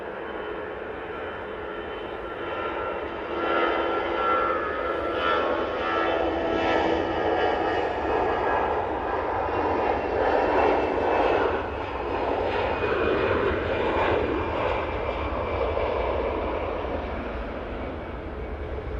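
An EasyJet airliner rolls down the runway at Manchester Airport, its jet engines roaring in a broad, steady rumble that swells to a peak midway and then slowly fades as the plane moves away.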